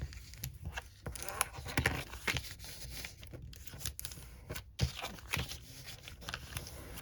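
Paper being folded and creased by hand for a handmade spring or Easter gift bag, with close, intermittent crinkling, scraping and sharp tearing-like rustles in irregular bursts, no talking.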